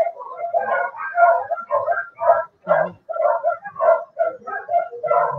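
Dogs barking and yipping in a home during a live online book launch, a close, busy run of repeated barks with brief gaps, loud and continuous throughout.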